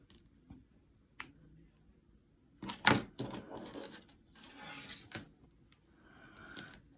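Crochet yarn is snipped off with scissors, a sharp close cut around the middle among faint rustles and small clicks, with quiet handling of the yarn before and after.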